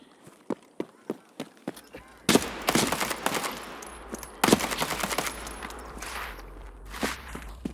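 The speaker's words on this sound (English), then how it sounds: "And there's something shooting from behind as well." Footsteps give way to bursts of automatic gunfire in Escape from Tarkov, the shots arriving from behind in dense volleys, fairly loud with sharp transient cracks, no voices over them.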